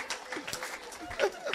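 A church congregation in Evry applauds in a brief, steady patter of clapping, with voices mixed into the crowd noise.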